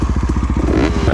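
A 2022 KTM 500 EXC-F dirt bike engine runs loud and close at high altitude, a steady rapid thumping pulse with a rough, rattling edge and no voices.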